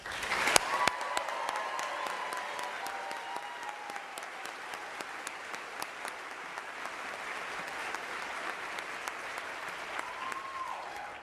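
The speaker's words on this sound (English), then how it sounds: "please join me in giving them another round of applause." A crowd applauds steadily for several seconds at a NASA astronaut candidate announcement, a dense wash of clapping hands filling a large room, with a brief voice near the end.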